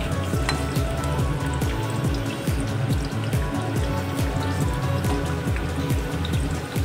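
Vegetables for a vegetarian biryani fry loudly in a pan, a dense continuous sizzle with quick rhythmic clattering like spattering droplets throughout.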